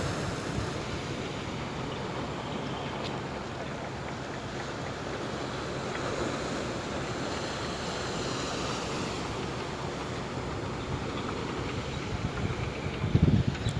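Winter sea waves wash onto a beach at Itaoca, a steady broadband roar of surf mixed with wind buffeting the microphone, continuous and fairly loud throughout, with a brief heavier rumble near the end.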